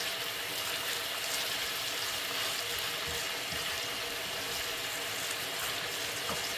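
Water runs in a steady, hissing stream into a cooking pot, constant and fairly loud throughout with no voices.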